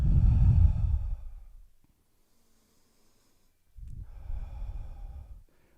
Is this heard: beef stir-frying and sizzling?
no